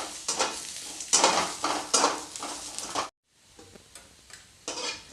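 Green chillies frying in oil in a kadai for a raw tomato chutney, giving a bright crackling sizzle in bursts with stirring scrapes, then a sudden brief gap and a quieter sizzle that resumes.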